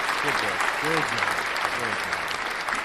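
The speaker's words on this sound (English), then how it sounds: "Give applause for dad jokes around here." An applause sound effect plays after a dad joke on a live guitar show, steady crowd clapping lasting a few seconds with voices speaking over it.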